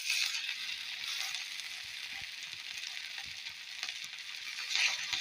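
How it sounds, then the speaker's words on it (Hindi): Chapli kebabs fry in hot oil with a steady, close sizzle of broadband crackle that holds level throughout, swelling slightly near the end. "इस तरीके से अब हम इनको तल लेंगे।"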